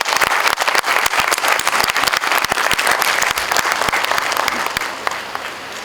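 Loud audience applause at a college NAAC celebration, dense sustained clapping from a large crowd with sharp individual claps standing out, continuing for several seconds before easing slightly.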